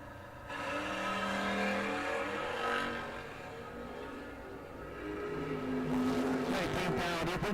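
Drag race door cars, including a 1981 Chevy Camaro, roar and rev loudly at the start, with engine noise swelling and shifting pitch over several seconds.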